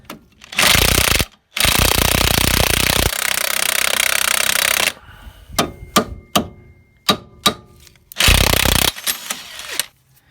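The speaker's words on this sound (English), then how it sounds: "And that is where an impact gun can really save you." An impact gun hammers loose a gearbox bolt on a 2.3 dCi Renault Master van: three loud, sustained rattling bursts with a pause between them. Between the bursts come several sharp metallic taps and clinks, all close by.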